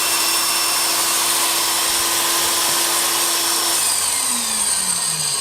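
A Makita circular saw blade sharpener motor runs steadily at speed, a loud, continuous high-pitched whine with a hum beneath that drops in pitch near the end as it slows.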